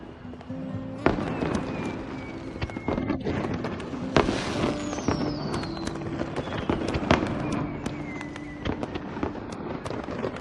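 Fireworks bursting in a dubbed Chinese drama scene, with repeated sharp cracks and booms over a continuous crackling, whistling background, loud and dense throughout, alongside sustained musical tones.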